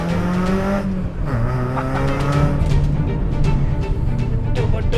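A Mitsubishi Cedia rally car on a hill road, its engine loud and close, pulling hard through rising revs with a gear change and continued strong acceleration.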